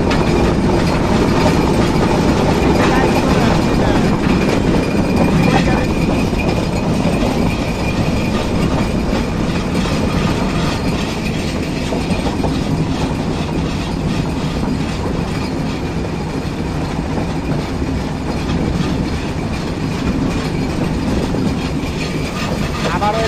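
Chilahati Express rounding a curve on its Natore to Dhaka run, a steady loud rumble of carriages on the rails with clickety-clack and faint wheel squeal, heard from on board and continuous throughout.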